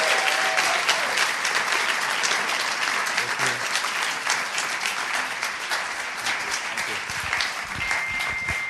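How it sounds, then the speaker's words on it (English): Sustained audience applause at a talk event, a dense steady clatter of many hands clapping throughout, with faint voices mixed underneath. "But one more round of applause for Andre and Lucy and the whole team."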